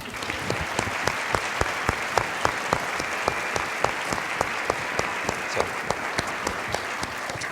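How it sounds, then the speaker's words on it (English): Audience gives a round of applause for the judges at the Sugar-Salem Distinguished Young Women program, sustained even clapping from a sizable crowd with some individual sharp claps standing out, continuing throughout. "we would now like to give them a round of applause."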